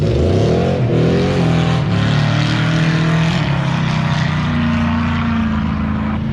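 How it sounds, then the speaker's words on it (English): A Ford Mustang drives past on a road, its engine a loud, steady roar that swells and holds throughout, with a rising then sustained drone and no talking. "Look at this Mustang driving by."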